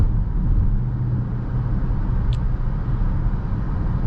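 A 2024 BMW X5 M60i with an 8-speed automatic accelerating hard, a broad steady engine and road roar heard from inside the cabin, constant and fairly loud with no voices.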